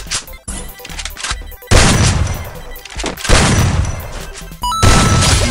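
Loud booming blasts and crashes from a video game, several heavy bursts separated by short gaps of gunfire and clatter.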